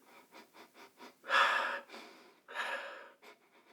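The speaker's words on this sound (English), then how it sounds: "Let's give it a good sniff." Someone takes several quick, short sniffs at Barber Blue scented shave soap, then draws two longer, deep inhalations, close to the microphone with no talking.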